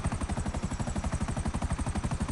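A damaged helicopter in GTA Online gives a rapid, steady rotor chop, with pulses beating evenly and fairly loud throughout, and no voices.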